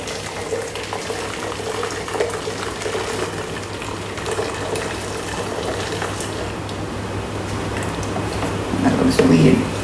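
Hot spaghetti water pours and gushes through a Thermomix steaming dish used as a colander, a steady splashing flow under ongoing talk that swells louder near the end.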